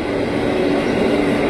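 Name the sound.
KRL commuter electric train at Depok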